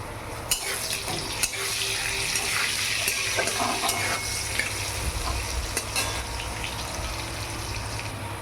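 Potatoes frying in oil in a pan while cooking a Shillong fish dish, a steady close sizzle with occasional stirring scrapes and clinks throughout.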